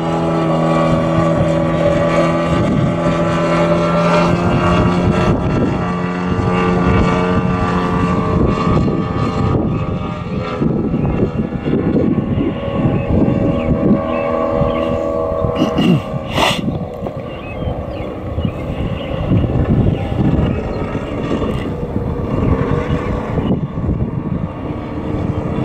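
A large model aircraft's new, not-yet-broken-in engine drones loudly and continuously for the whole stretch, a buzzing whine that wavers slightly in pitch, with occasional faint voices beneath.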